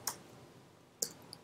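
Two light, crisp keyboard key presses about a second apart, the Enter key struck while setting up a server from a terminal, close and quiet with a faint tick after the second.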